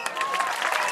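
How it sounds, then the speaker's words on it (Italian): A flash mob crowd at Marina dei Ré in Cervo claps in a brief burst of dense, close applause that carries steadily through the whole second. "fatemi un applauso"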